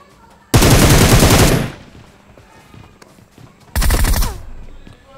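Automatic gunfire in the battle-royale mobile game PUBG Mobile, two loud rapid bursts, the first over a second long and the second shorter, with quieter game sounds between.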